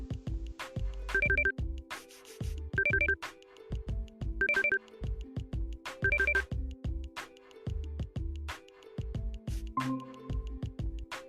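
Outgoing phone call ringback tone, a repeating electronic ring pattern in evenly spaced bursts with short gaps, moderately quiet and heard alone without talking.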